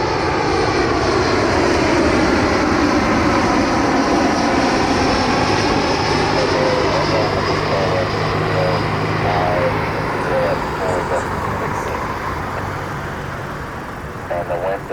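An inbound airliner at Cleveland Hopkins International Airport during a thunderstorm roars loudly and steadily with its jet engines, slowly fading as it passes, with a voice speaking over it.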